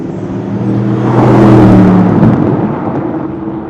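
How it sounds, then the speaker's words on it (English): A hand-built twin-turbo V8 of an Aston Martin Vantage S rated at 670 horsepower makes a deep, loud engine drone that swells to a peak midway and then fades, like a car passing close by. "Under the bonnet is a hand-built twin-turbo V8 producing 670 horsepower"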